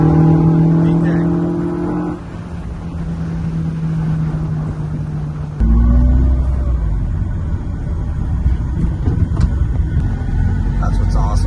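A Super Cooper car drives on a freeway in third gear, its engine droning loud and steady with a gear change partway through and road rumble underneath, while someone talks inside the cabin.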